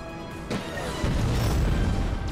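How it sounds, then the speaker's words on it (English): Heavy booming blasts and crashing rumble in the video game Ratchet and Clank (2016), loud and continuous, with a sharp impact near the start and another about a second in. "So many explosions and stuff."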